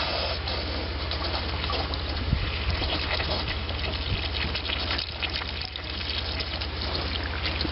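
Muddy water drains and trickles steadily out of a part of a Hydro Flame Atwood 8531-II RV furnace, a continuous wet gushing wash with a low hum underneath, close and fairly loud throughout.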